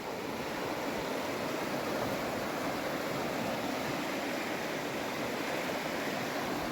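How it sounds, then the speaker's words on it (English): The Pemi River rushes steadily, a dense, continuous wash of flowing water heard close and unbroken with no voices. "This is the Pemi River."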